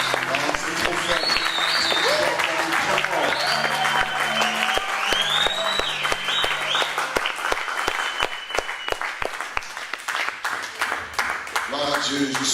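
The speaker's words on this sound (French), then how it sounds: "je vais te demander de faire encore une offrande d'acclamation" A church congregation applauds and cheers during a worship service, with sharp claps and excited voices, a vocal phrase and tones woven through the steady clapping.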